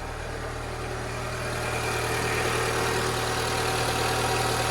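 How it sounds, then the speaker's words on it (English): A scrap Renault Clio's engine, with parts removed from the engine bay, idles steadily and smoothly, a low, even rumble that grows slightly louder after the first couple of seconds, with no voices. "I'll start it up and you'll see it purrs like a little kitten"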